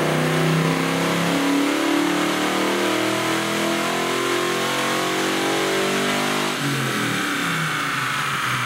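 A loud LS-powered Chevrolet Camaro engine revs hard on a dyno, holding a steady high-rpm roar before the pitch drops sharply near the end.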